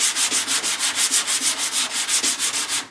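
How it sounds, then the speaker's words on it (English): Hand sanding of paint on a car fender to smooth out a dent, a loud, close, rhythmic back-and-forth rasp of about twenty quick even strokes with no voices. "this dent will come out if I sand it more, because there should be enough paint on this fender for it to fill here"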